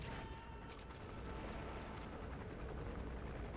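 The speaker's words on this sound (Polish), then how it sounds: "Oczywiście musiał wrócić ten cholerny śmigłowiec." A helicopter in the Metal Gear Solid V video game, its rotor producing a steady, dense rumbling chop that holds at constant loudness throughout, with no talk.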